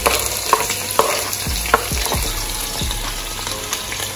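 Garlic seasoning in a small amount of coconut oil in a pan, a close, steady sizzle broken by several sharp scraping stirs and clinks of a spoon against the pan.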